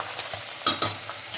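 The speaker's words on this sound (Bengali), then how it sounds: "এই দেখো মাছ ভাজাটা বসিয়ে দিয়েছি" Small fish frying in a pan, with a soft steady sizzle close by and two brief louder bursts of spatter or stirring in the middle, with no voices.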